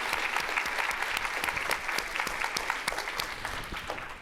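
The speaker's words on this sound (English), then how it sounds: "Round of applause for our panelists." Audience applause for panelists at a wearables tech event in Toronto, a continuous patter of many hands clapping, fairly distant and even, lasting the whole stretch with no speech.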